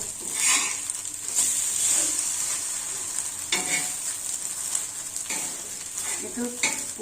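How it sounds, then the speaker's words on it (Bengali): Egg frying in a pan during khichuri cooking, with loud, bright sizzling that swells and fades as the spatula scrapes and stirs, giving several soft knocks and scrapes along the way. "এই ডিমটাও ভাজা হয়ে গেছে"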